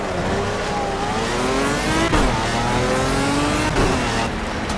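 The V12 engine of a Pagani Zonda Cinque Roadster in the Project CARS racing game revs hard, with rising and falling tones through gear changes and a couple of sharp shifts, loud and continuous with no talk.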